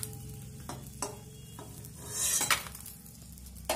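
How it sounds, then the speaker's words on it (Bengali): Kalai bori lentil dumplings fry in hot mustard oil with a low steady sizzle, a few spoon scrapes and clinks against the pan, and a brief louder burst of spitting oil, close and without voices. "ওই তেলের মধ্যে কলাই বড়ি দিয়ে ভেজে নিব"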